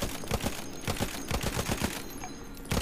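A weapon in Battlefield 1 fires a rapid burst of close, sharp gunshots in an uneven rhythm for about two seconds, then stops briefly before one more shot.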